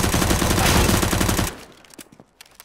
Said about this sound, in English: They are so good with pistols.